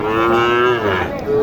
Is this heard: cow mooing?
yes